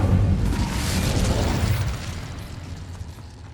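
Incendio fire spell cast in the Hogwarts Legacy video game, a loud close burst of flame with a rumbling whoosh. It fades steadily over a few seconds and plays alone, with no talk.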